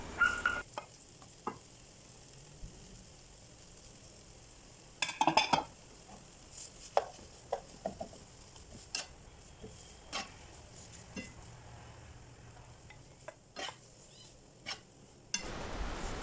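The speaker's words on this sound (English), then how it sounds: "So she's mixing these ingredients in together. Let them cook a little bit." Cabbage, carrot and dried mushrooms are stir-fried in a pan, a quiet soft sizzle broken by repeated clinks and scrapes of a utensil against the pan.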